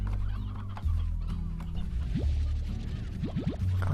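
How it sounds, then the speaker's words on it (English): Roosters in the video game Slime Rancher cluck steadily in a dense, continuous stream, with short rising squawks breaking through over a droning game background. "We don't need as many roosters."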